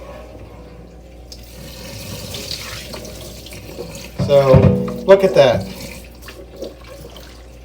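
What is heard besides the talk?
dirty carpet cleaner water poured into sink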